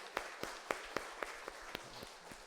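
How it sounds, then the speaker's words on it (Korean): A small church congregation claps during a Korean Sunday worship service marking the church's 36th anniversary, a sparse, fairly slow rhythm of individual claps, soft and somewhat distant in a quiet room. "우리를 여기까지 인도하신 우리 하나님께 영광의 박수 올려드립니다"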